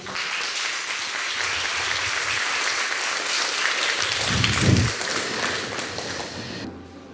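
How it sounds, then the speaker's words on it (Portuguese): A church congregation applauds in sustained, fairly steady clapping that fills the room at moderate loudness, swelling briefly near the end before cutting off. "Aplauda Jesus."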